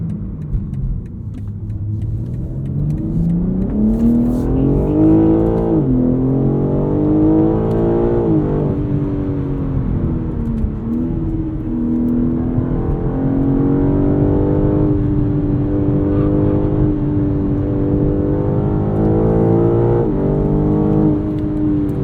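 A 2021 BMW M3 Competition engine pulls hard through the gears, rising in pitch with each gear, dipping briefly at shifts and climbing again in a loud, sustained drone heard from inside the car.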